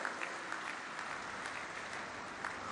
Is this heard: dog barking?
no